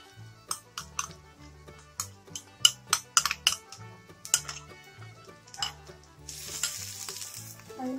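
Masala paste goes into a hot pan with potatoes for broccoli masala: light clinks of a spoon against the pan, then a bright burst of sizzling near the end, all over soft background music.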